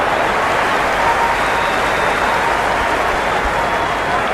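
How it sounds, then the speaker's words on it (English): A stadium crowd cheers steadily in the cricket video game Cricket 26 during an India vs South Africa T20 match, a dense, loud roar of applause and noise that holds evenly throughout. "The crowd is electric right now."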